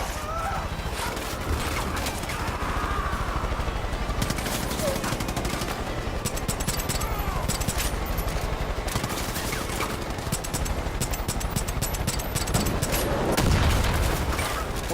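Dense, continuous rockets and gunfire in the Far Cry 5 video game, rapid bursts of shots layered over rumbling blasts throughout, swelling louder near the end.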